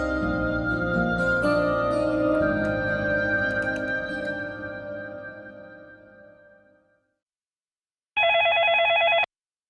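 An office telephone rings unanswered, a long ringing tone with music fading out beneath it, then a second loud burst of ringing after a short silence.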